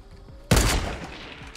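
Gunfire from the video game Fortnite: a single loud, sharp burst strikes suddenly and rings out with a fading rumble, after a quieter stretch of ambient game noise.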